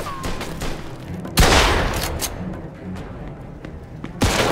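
Gunfire rings out in a Mafia II shootout with the Tongs: scattered cracks of shots, a heavy close blast partway through and another sharp burst near the end, over a constant rumble of background action.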